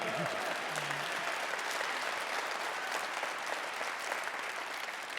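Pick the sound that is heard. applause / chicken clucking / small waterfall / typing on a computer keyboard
applause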